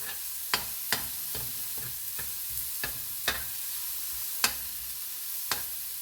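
Vegetables sizzle steadily in a hot pan for a ginisa sauté. A utensil clacks sharply against the pan at irregular intervals over the continuous frying hiss, and no one speaks.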